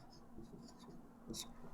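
A pen or chalk scratches out a maths problem, faint and close, in short strokes with a brief sharper stroke near the end, over a low room hum and no talking.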